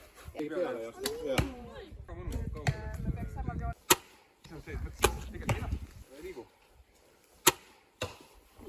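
Carbon arrows shot from a bow during bowhunting practice, giving a few sharp, isolated thwacks and impacts spread through the clip, with people talking between the shots.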